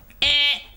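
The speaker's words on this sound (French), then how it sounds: "Il me faut un buzzer!" A single short game show buzzer sounds, a bright, harsh electronic buzz lasting about a third of a second, loud and alone over quiet background.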